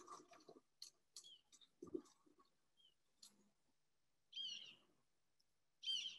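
A Ridgway's hawk gives a series of high, sharp calls in short bursts, with two louder drawn-out cries near the end, over a quiet background.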